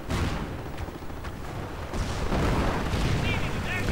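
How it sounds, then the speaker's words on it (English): Nebelwerfer rocket artillery in a World War II video game blasts continuously, a dense rumbling barrage of booms and bursts with no quiet gaps, loud and sustained throughout. "Nebelwerfers blasting everything into a smoldering inferno in the center"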